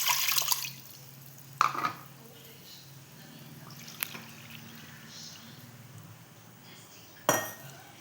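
Water measured by the bowlful into a pot in a home kitchen for rice papad, heard as a few sharp clinks and knocks of bowl against metal pot with faint splashes between, spaced several seconds apart in a quiet room.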